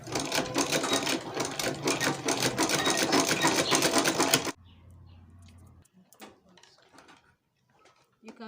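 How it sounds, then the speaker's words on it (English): A sewing machine gathers fabric into a ruffle sleeve, running loud and steady for about four seconds before stopping. Soft fabric handling and faint clicks follow. "You just push it forward and you gather it with your machine."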